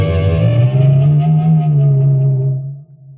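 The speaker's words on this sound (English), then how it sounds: "play the three natural harmonics" Three natural guitar harmonics sounded together on an electric guitar, then bent with the whammy bar, producing a dense shimmering chord with echo and distortion that wavers in pitch and slowly decays to near silence.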